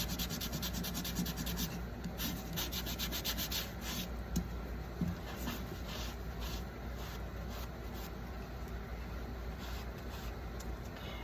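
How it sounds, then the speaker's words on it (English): Sandpaper rubbing over painted Dollar Tree craft pumpkin, a steady close scratchy rasping with brief strokes running continuously and fairly quietly, no talking. "make sure you sand these little parts too"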